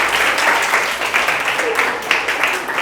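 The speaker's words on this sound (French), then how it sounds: "On peut l'applaudir, on peut l'applaudir," An audience applauds at a televised results show, steady dense clapping filling the whole stretch at moderate loudness, with a voice talking faintly underneath.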